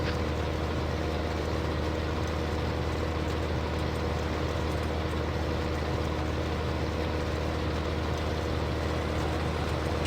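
A tractor engine runs steadily in a farming video game, a constant low rumbling drone that stays at the same faint level with no talk over it.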